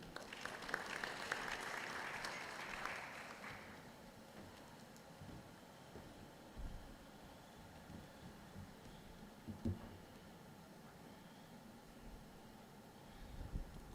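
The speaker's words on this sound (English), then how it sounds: "A round of applause for him" An audience at a regional advisory committee meeting applauds a Ministry of Health speaker, a soft, hissing wash of distant clapping that fades after a few seconds into quiet room noise with faint scattered knocks.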